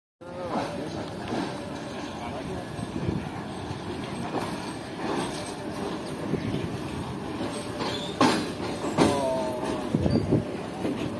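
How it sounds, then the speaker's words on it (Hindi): The Pak Business Express train rolls into a platform at Karachi Cantt railway station with a rumbling roll, clattering wheels and short metallic squeals, and the noise grows toward the end while voices talk in the background. "33 अप पाक बिजनेस एक्सप्रेस को कराची कैंट रेलवे स्टेशन के प्लेटफॉर्म नंबर 7 पर प्लेस किया जा रहा है"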